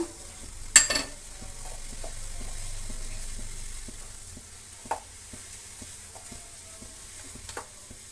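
Finely chopped curry leaves, a spoonful of cumin and a spoonful of poppy seeds crackle in hot oil. Sharp pops and spits break through a soft, low sizzle, quiet and close, with no talking.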